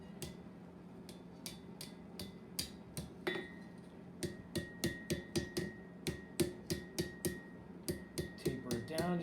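A hammer strikes heated copper on an anvil in sharp metallic taps, irregular at first, then settling into a quick steady rhythm of ringing blows, moderately close and fairly quiet.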